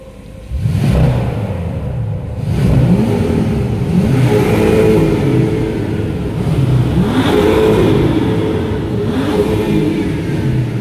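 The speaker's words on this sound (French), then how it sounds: "On va faire une petite battle de rupteurs" A BMW M6 engine is revved hard against its rev limiter in repeated loud, close bursts, each climbing and falling in pitch in a steady rhythm with no voices over it.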